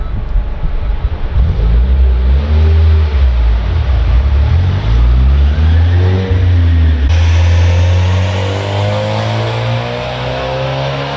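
A 10th-generation Honda Civic engine with a Skunk2 intake manifold revs hard on a dyno and steadily climbs in pitch under load, loud and close, then eases off near the end.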